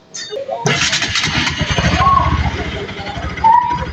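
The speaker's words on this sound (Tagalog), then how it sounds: "So ito na yung andar niya ngayon. Pandarin natin." A Bajaj NS200 FI motorcycle, whose coolant had mixed with the oil, cranks and fires up, then runs at a steady, loud close-range idle with some mechanical clatter.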